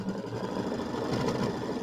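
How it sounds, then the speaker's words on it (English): Domestic sewing machine stitching down quilt appliqué pieces for a Kimberbell mini quilt, running steadily and close throughout with a continuous whirring hum, no talking. "And then we're going to stitch those down."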